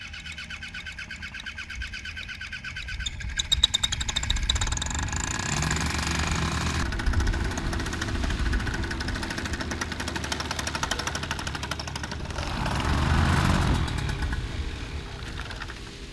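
A small two-stroke paramotor engine, underpowered for its pilot, runs nearby in light wind, a rough buzzing drone that rises to a louder surge partway through and then eases again, with no speech.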